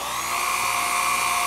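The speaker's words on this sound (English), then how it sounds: "We're having to pre-drill our holes to make sure we don't split the particle board." A power drill whines steadily at high pitch, boring into particle board in one continuous, close-up run.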